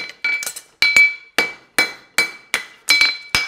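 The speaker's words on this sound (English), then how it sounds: "I'm going to forge the heel on a little bit." Hammer blows forging the heel of a steel horseshoe ring out as eight sharp metallic strikes in an uneven rhythm, each with a bright clanging ring that decays quickly, close and loud with no talking.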